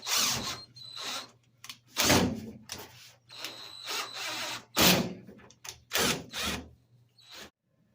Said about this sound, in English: So I'm gonna get to drilling this hole.